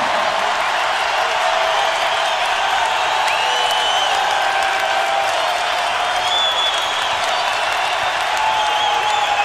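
Constant roar of a basketball arena crowd at a UConn at Arizona men's game, broad cheering and applause holding steady throughout, with faint whistles and whoops on top.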